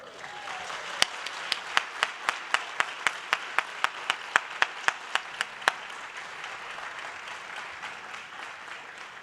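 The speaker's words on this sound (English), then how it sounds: "I want you to give them the round of applause for all that love and support" At a 2019 white coat ceremony for the Ohio State College of Optometry, a large audience claps in a fast, steady unison rhythm, each loud clap ringing out over a soft background wash of applause before the clapping stops.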